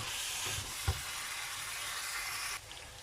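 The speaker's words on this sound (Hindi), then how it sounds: "हम इसको तकरीबन 5-7 मिनट के लिए भूनेंगे।" Mutton karahi frying in a pan, a steady broadband sizzle that continues throughout with a faint knock partway through.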